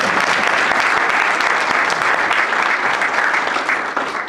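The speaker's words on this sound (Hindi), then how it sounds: "अब एक दफा और बज़्म अदब के लिए तालियां." An audience at a Bazm-e-Adab literary gathering in Atlanta gives sustained, even applause that fills the room at close range for the whole stretch, with no voices over it.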